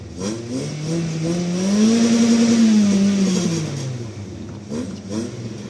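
A remapped car engine revs up steadily, its pitch climbing and holding before easing back down, loud and close with a gritty mechanical drone.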